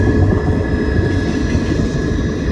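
A CSX westbound military container freight train rolls past nearby with a loud, continuous heavy rumble and steady rail noise, with faint high whines above and no talk.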